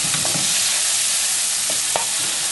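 Onions being stirred back through a hot frying pan, with a steady broadband sizzle and a few soft scraping strokes of the spoon, close and continuous with no talking.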